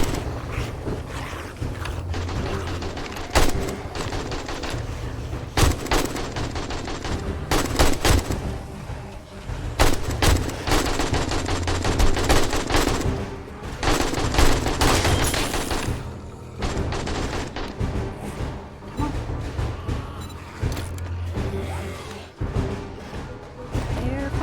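Gunfire crackles almost nonstop in the video game 7 Days To Die as shots and bursts pile up loudly over a dense, roaring background, with the odd short break between volleys.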